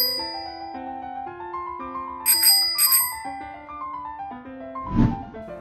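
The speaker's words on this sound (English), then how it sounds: "B is for Bicycle." A bicycle bell rings twice in quick bright dings, cutting through a steady background of tonal music, and a low thud lands near the end; no speech.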